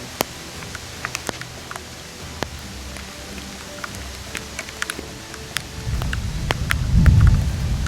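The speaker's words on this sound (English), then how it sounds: "We beat the rain by what, 3 minutes or 5 minutes?" Rain falling outdoors on a turkey hunt, a soft steady wash with scattered sharp drop ticks that swells into a louder low rumble toward the end.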